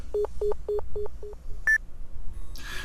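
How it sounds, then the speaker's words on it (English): A phone in the Nekopara video game is dialed: five evenly spaced keypad tones beep in steady rhythm, then one higher tone, then a short hissy burst at the end, with no talking. "Ah, the phone."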